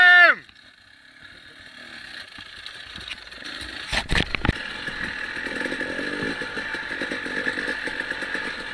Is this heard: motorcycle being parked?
yes